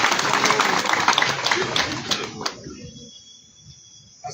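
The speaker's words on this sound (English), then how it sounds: "let's give him a clap" An audience at a live FDC and NUP gathering claps together in a dense burst of applause that thins out and stops after a few seconds, leaving a quieter background.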